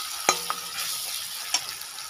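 Spices such as turmeric and black masala frying in hot oil while being stirred, a steady soft sizzle broken by a few sharp scraping clicks of the spoon against the pan.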